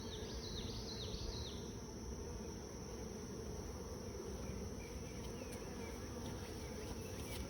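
Honey bees swarm thickly around an overcrowded hive where they are bearding, a dense continuous buzzing drone heard close up, with some brief insect chirps at the start.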